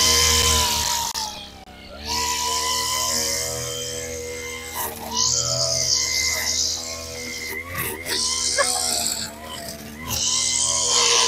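A freshly serviced grass cutter engine runs at a steady, close, loud idle with a buzzing harmonic tone, while a voice talks over it.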